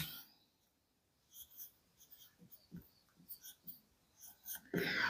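A pen scratching across paper in short, quiet strokes, bursts of scribbling separated by pauses, faint and close, ending in a louder rustle.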